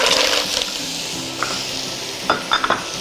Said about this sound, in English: Give them a bit of a stir through the onions and the bacon, get everything working.